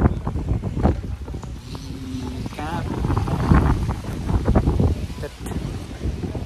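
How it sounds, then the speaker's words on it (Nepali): Strong wind gusts across an outdoor crowded event, making a loud, continuous rumbling roar on the microphone while voices talk over it. "सो गाइज हावा एकदमै चलिरहेको छ।"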